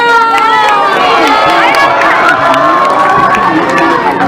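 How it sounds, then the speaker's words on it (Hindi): A large crowd at a Ramleela performance during Durga Puja cheers and shouts loudly and continuously, a dense roar of many voices close by. "एक बार फिर से जोरदार तालियां हो जाए।"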